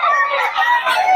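A sweater gamecock rooster gives a short, loud crow up close, a single strained call lasting about a second.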